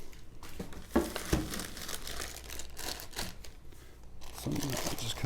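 Plastic packaging of a MidTen rifle monopod stand being torn and opened, with crinkling, rustling and a couple of sharp rips up close, mixed with light handling noise.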